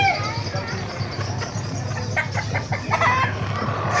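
Chickens cluck repeatedly nearby at a market in Bocaue, over a steady low background hum, with a few louder squawking bursts toward the end.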